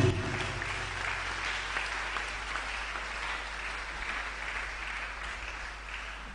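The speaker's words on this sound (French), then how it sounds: "Oh, acclame Jésus" A church congregation at a Pentecost Sunday glory festival applauds and acclaims Jesus, with steady, dense clapping and crowd noise sustained throughout at a fairly loud, even level.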